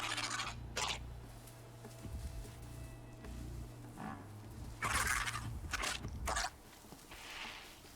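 Robotic chicken-like creature from the video game Horizon Zero Dawn, giving repeated gobbling, clucking bursts over low mechanical rumble and scuffing movement, moderately close with no talk.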